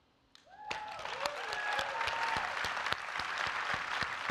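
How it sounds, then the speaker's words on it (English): Audience applause for Hilton Kelly at a climate plenary, starting after a brief quiet moment and swelling into sustained, full clapping from a large crowd with a few whoops over it. "A big round of applause for Hilton Kelly, everyone"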